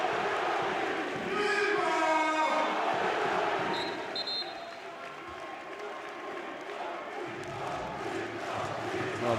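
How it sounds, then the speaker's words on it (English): A handball arena crowd at a Spain versus Croatia European Championship match roars and cheers, swelling into rhythmic chanting and singing of a player's name, loud and sustained, with a commentator's voice over it. "Well, the crowd enjoying this now."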